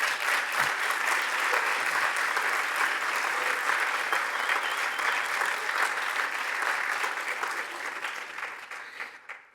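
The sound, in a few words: audience applause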